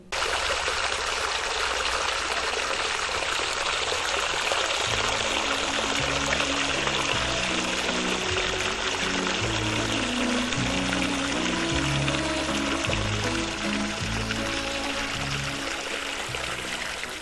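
Water from cold mineral springs flows continuously in a broad, steady rush, with a low rumbling or splashing undertone joining partway through.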